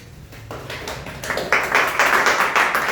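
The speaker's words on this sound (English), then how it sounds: "Everyone clap for Kamal Yunus" An audience starts clapping, beginning as a few scattered hand claps and building into a louder, fuller round of applause by the end.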